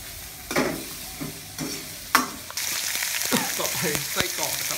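Sausage is stir-fried in a pan, with a steady sizzle and repeated scraping stirs of a utensil against the metal. The sizzle grows louder and more continuous partway through.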